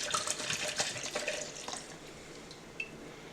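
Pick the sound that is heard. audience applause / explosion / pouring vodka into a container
pouring vodka into a container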